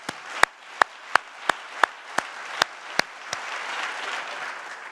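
Audience at the Newport News State of the City address claps in slow, sharp, evenly spaced single claps, about nine in a row, before the sound swells into a softer wash of general applause.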